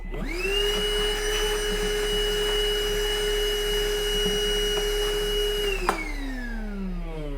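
Skil 20V compact cordless trim router cutting into wood, a loud steady high-pitched motor whine held for several seconds before the pitch drops away as it spins down, with no talking.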